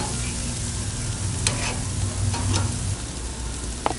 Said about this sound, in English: I have the barbecue on, so I'm gonna put some veggie as well.